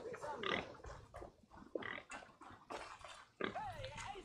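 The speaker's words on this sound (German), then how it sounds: "Hier sind nämlich die Schweinchen" Pigs grunt and oink in short bursts in Assassin's Creed Valhalla, mixed with speech and fairly close, with several squealy calls spread across the scene.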